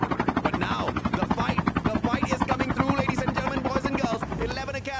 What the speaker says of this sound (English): Chopper has spotted them out already